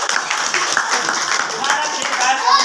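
A crowd breaks into loud, sustained applause for a guest at a motivational gathering, the clapping continuous throughout with a voice speaking over it.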